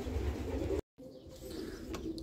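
Soft, low cooing from a racing pigeon, close by and fairly quiet, with a brief gap of silence partway through.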